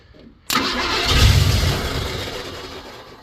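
A project car's engine, cranked from an under-hood starter button, catches abruptly and roars into a rough, loud idle close by, then settles slightly as it runs.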